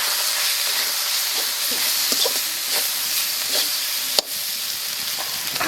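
Chili and cumin sizzle in hot oil during traditional Santali tribal cooking, a steady bright frying hiss with faint crackles and one sharp pop near the end.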